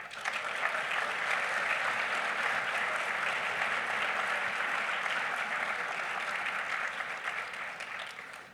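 Sustained applause from a Savannah Book Festival audience for donors, authors, volunteers and staff at the 2024 closing address, a steady dense clapping that holds evenly loud for about eight seconds before easing slightly at the end.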